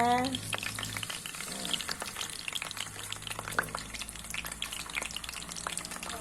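Mackerel frying Halal style in a pan of hot oil, a steady, dense crackling sizzle with constant popping spatters, close and loud throughout, with a faint voice briefly underneath.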